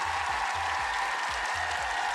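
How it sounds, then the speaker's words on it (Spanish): A studio audience gives a live talk show guest a sustained round of applause, a dense, steady clatter of many hands filling the whole stretch with no voices over it. "Nuestro público te da un aplauso grande."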